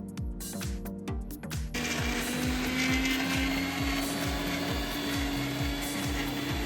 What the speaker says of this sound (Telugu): మిక్సీ జార్లో తీసుకొని వాటిని అయితే మెత్తగా మిక్సీ చేద్దాము